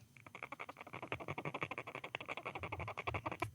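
An eye rubbed with the eyelid closed gives off a close, faint run of rapid, rhythmic little squeaks that continue evenly for a few seconds.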